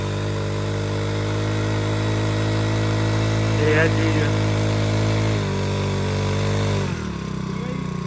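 A steady engine drone from a newly arrived machine from England runs throughout after starting, with a shift in pitch near the end as it changes pace, and someone speaks briefly over it.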